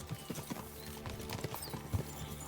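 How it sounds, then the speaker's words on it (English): Horses' hooves clip-clop in a steady, rhythmic gait through the medieval world of Kingdom Come: Deliverance II, the hoof strikes close and distinct over a low rumble, with no talk. "We should spur the horses on."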